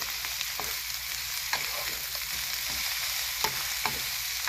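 Cabbage leaves sizzle in a hot pan for a spicy Szechuan stir fry, a steady crackling hiss with sharp pops and stirring scrapes scattered through, close and alone.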